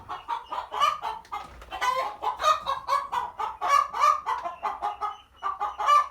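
Agitated hens cluck and cackle nonstop at a snake stealing eggs, many overlapping birds calling loudly nearby in a busy, restless chorus.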